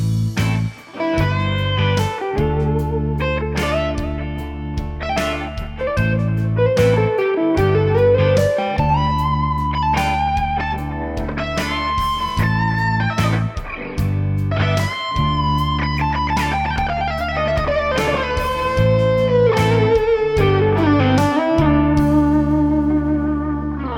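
An electric guitar improvises lead lines over a backing track, with bends, quick runs and sustained distorted notes riding over steady chugging chords and drums, loud and continuous with no talking.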